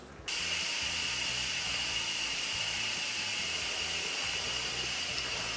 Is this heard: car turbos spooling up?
no